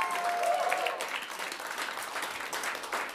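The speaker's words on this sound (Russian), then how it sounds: "Отдельные аплодисменты." Applause from a concert audience honoring a percussionist, fairly quiet and distant, a steady wash of clapping with a brief tonal ring at the start.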